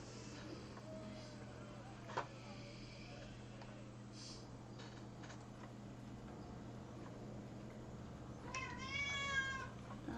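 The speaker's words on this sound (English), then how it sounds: "Yes, my cat." A pet cat indoors gives a faint meow midway, then a longer, clearer wavering meow near the end, over a low steady room hum with quiet background voices.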